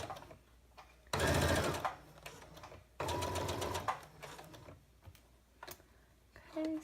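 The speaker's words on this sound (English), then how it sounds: "we just finished up sewing the first part of the zipper" Sewing machine stitching a zipper on an ear bud holder, two loud bursts of fast rhythmic stitching separated by quieter pauses with faint handling sounds, close up and with no talking.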